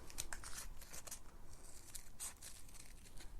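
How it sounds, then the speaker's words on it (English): Scissors trim the edges of an egg carton craft piece so it sits flat, making quiet, quick repeated snips and light papery crinkles close by. "I'm going to go in and trim."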